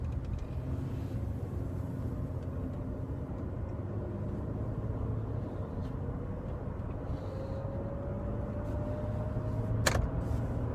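A 2004 Kia Amanti pulls away and cruises, a low, even engine and road rumble heard from inside the car with a rising whine late on and a brief click near the end.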